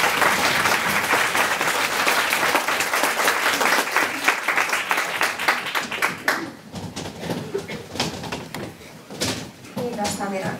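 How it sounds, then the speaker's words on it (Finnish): An audience at a child-protection co-development day applauds in a dense burst for about six seconds, then the clapping thins to scattered claps with voices talking and some knocking sounds nearby. "Toiset aplodit."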